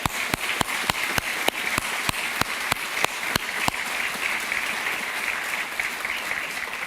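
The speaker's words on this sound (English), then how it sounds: "Let's give them all a round of applause." Applause from an audience at an outdoor groundbreaking ceremony for a veterans village, with a few sharp, evenly spaced claps standing out near the microphone over a softer crowd clapping that continues after they stop.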